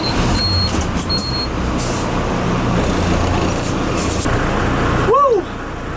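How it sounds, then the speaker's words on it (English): Steady road traffic rumble heard from inside a van stuck in traffic at a Honduras border crossing, with a bus and trucks close by, continuous and loud throughout, ending with a brief rising-falling whine. "we're still in traffic"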